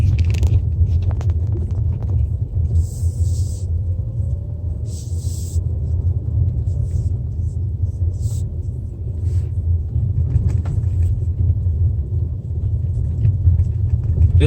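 A 2020 Kia Sportage SX with a 2.0-litre turbo and AWD drives over sandy off-road terrain, giving a steady low rumble of engine and tyres with occasional knocks and rattles from the bumpy ground.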